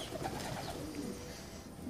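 Pigeons of a unique breed coo softly in a loft, with low murmuring calls over a steady, faint background and no talk.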